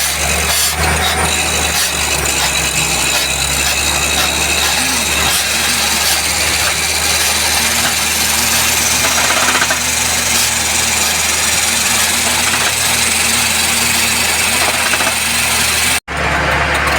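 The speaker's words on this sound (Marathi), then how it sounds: "आता हॅमर चालू झालाय" A borewell drilling rig runs its hammer, a loud, continuous droning engine roar with a steady low rumble and gritty mechanical noise, close and unbroken until a brief cut near the end.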